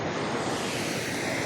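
Strong ocean waves at Sinagtala Resort in Infanta, Quezon, a constant loud wash of surf mixed with wind noise on the microphone, steady and broadband with no breaks.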